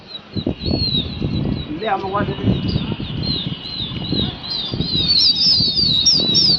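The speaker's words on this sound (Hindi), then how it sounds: "सब कबूतर उड़ गए हैं।" Pigeons' wings flap in rapid fluttering bursts as they take off, with chirping and high-pitched calls overhead and a faint background of outdoor noise in Lucknow.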